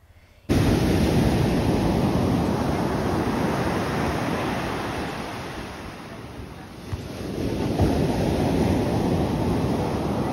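Pacific waves roll onto the beach at Mazunte, Mexico, a loud continuous roar of surf mixed with wind buffeting the microphone, easing briefly before swelling again.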